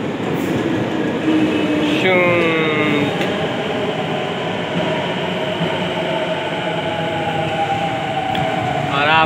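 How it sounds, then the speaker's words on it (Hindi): A Delhi metro train arrives at a station, a loud continuous rumble and rail hum with whining tones rising and falling, close by, with a voice talking briefly. "तो गाइस आप लोग देख सकते हैं हमारी मेट्रो ट्रेन आ रही है"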